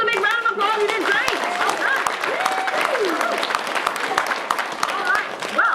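An audience at the outdoor Elkwood Amphitheater in Kananaskis Country applauds after a trivia session, a steady wash of clapping with voices and a few whoops mixed in.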